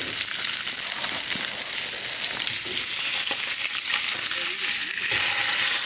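Seasoned fish stuffed with lemon sizzles and fries steadily in a hot pan, a loud, continuous crackling hiss that holds across the whole span with no talking.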